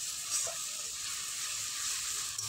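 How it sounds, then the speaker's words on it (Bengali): Onion paste frying in hot oil in a pan for a Bengali rohu fish curry with potato and cauliflower, a steady close sizzle with soft crackle, no voices. "এবারে দিয়ে দেব পেঁয়াজ বাটা। পেঁয়াজটা আমি ভেজে নেব।"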